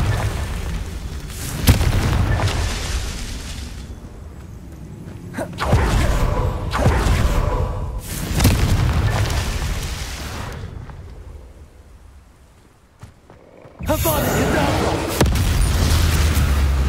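Repeated fiery Confringo blasts in Hogwarts Legacy, several booming explosions bursting in succession with rumbling decay between them, loud and close amid game ambience.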